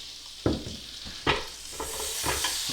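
Butter and olive oil heat in a pan while kuku sabzi with wild greens is being cooked, making a soft continuous sizzle with a few sharp knocks and scrapes of stirring.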